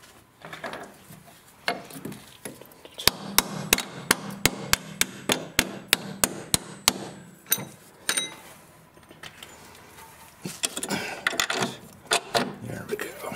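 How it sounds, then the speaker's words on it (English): A steel punch hammered to drive a strut bolt into the steering knuckle of a 2007 Chevy Equinox, a rapid run of about a dozen sharp metallic strikes, with scattered knocks and someone talking before and after. "I'm going to use a punch, and should be able to slide the bolt in now"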